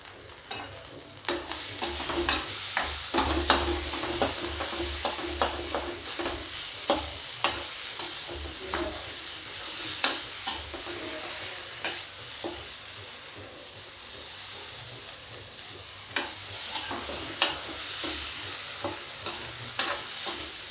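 Potatoes sizzle steadily in a hot pan while a utensil stirs them, sharp scraping clicks recurring every second or two over a constant frying hiss, close and fairly quiet, with no one talking.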